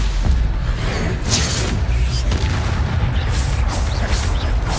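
A Stupefy stunning spell blasting in the Hogwarts Legacy video game within a dense, loud rumble of combat booms and whooshes that continues without a break.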